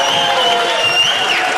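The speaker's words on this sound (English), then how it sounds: "So give me a round of applause for yourself." A crowd at a live show in the Hudson Valley bursts into brief, lively applause mixed with some cheering, loud and close over a faint ringing tone.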